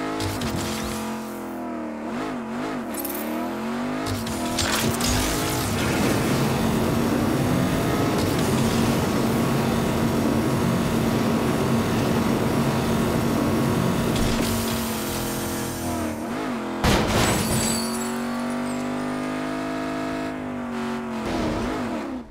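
A car engine in the video game Agents of Mayhem drones steadily and loudly throughout, with revving swells and pitch shifts suggesting acceleration and a brief skid near the end, heard without speech.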